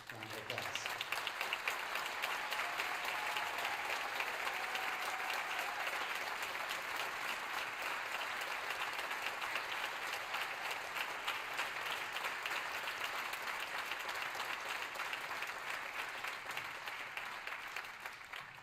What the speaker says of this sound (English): I'd like all of the seniors in Symphonic Band to stand right now and receive a well-earned round of applause.